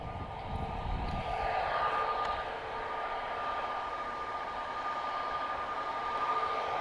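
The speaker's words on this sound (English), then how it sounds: "So, this is Ryanair, Foxtrot Romeo 1142, arriving from Berlin. 737-800, of course, operated by Malta Air." A Ryanair Boeing 737-800 operated by Malta Air, arriving from Berlin, produces a faint, steady distant jet hum with a thin whine, heard alone at low level.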